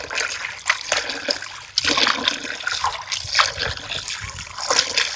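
Fish are rinsed in water, with close splashing, sloshing and trickling in uneven surges and no speech over it.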